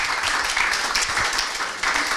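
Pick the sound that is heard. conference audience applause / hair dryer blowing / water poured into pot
conference audience applause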